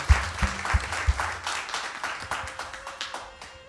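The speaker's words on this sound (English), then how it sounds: "Can we have another round of applause for the amazing Bhajan singing?" An audience at an Easwaramma Day celebration at a Sai centre claps after bhajan singing. A few sharp, close claps open into a brisk burst of applause that thins and tapers off over a few seconds.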